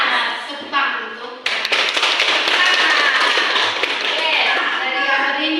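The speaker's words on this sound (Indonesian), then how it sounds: "Tepuk tangan untuk." Clapping from a small group in a classroom coaching session, starting with scattered taps and swelling into steady close clapping, with children's voices mixed in.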